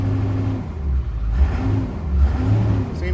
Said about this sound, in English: When I give it gas, it needs to jump up.